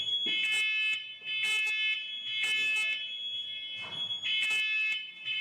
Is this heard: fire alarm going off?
yes